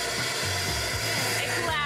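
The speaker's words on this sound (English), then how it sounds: "We'll end up turning on a vacuum." Industrial vacuum running loudly in a 3D printing facility while it collects leftover printing powder, a continuous harsh whooshing roar with a few low thumps underneath.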